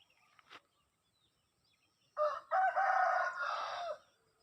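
A rooster lets out one long, loud crow near a garden on a quiet morning, preceded by a brief faint cluck, with stillness around it.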